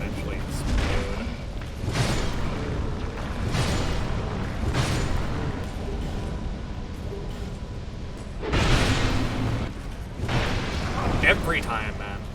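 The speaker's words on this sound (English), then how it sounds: "I think these guys are flammable, so you can set them on fire and then they eventually explode" Flammable enemies in Dark Souls 2 burst in a string of heavy booming explosions that recur every second or two amid game rumble, with a person talking over them.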